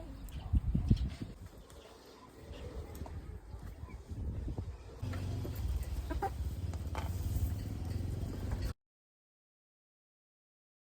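A mother hen clucks close by in short, uneven bursts, loudest at the start and then softer and more scattered, before everything cuts to silence near the end.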